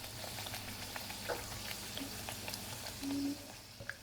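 Vadas frying in hot oil for a fasting-season dahi vada dish give a soft, steady bubbling sizzle, faint and even throughout with a few small pops.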